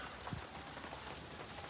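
A heavy rain shower falling, a dense steady patter of drops hitting surfaces close by with no other sounds.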